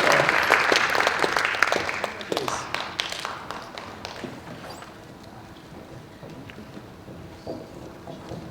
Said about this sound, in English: would you like to join me in giving them a great round of applause?